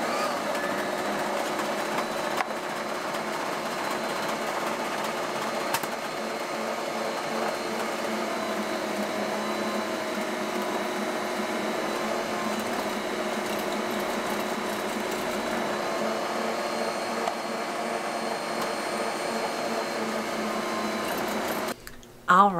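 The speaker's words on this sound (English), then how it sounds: "We're going to turn it on and we're going to grate the zucchini." Kitchen machine grating fresh zucchini, a steady whirring motor hum that runs evenly and loud for most of the time, then cuts off abruptly near the end.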